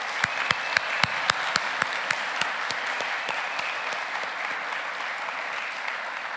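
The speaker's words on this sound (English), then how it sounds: "one last round of applause for Tashina." An audience applauds at a 2023 honoree recognition ceremony at the University of Alaska Fairbanks. Crisp individual claps at first swell into sustained, even applause from a room full of people.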